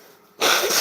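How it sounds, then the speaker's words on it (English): A person with bad allergies blows their nose outdoors in dusty air, a single short loud blast that starts after a brief quiet moment, close up. "Excuse me for me blowing my nose."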